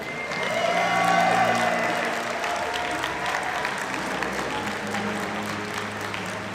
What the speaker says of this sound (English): Can I please have a big round of applause for all of our cosplay catwalk?